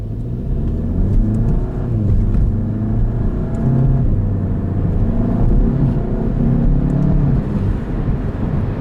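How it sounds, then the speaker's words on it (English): A turbocharged VW Golf GTI MK7 with an aftermarket CTS turbo intake drives on cold roads on all-season tires, its engine a loud, steady close drone with rising and falling pitch throughout and no talking. "getting more diverter valve noises, which is cool-ish"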